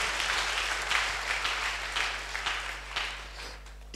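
A congregation in a chapel claps together in a steady, dense wash of applause, with louder accented claps roughly every half second over a constant low hum.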